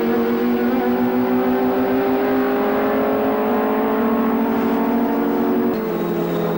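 Historic sports racing cars in a 1998 Thundersports race at Castle Combe circuit roar past at full throttle in a loud, sustained engine drone, with a sudden pitch drop near the end as the note shifts.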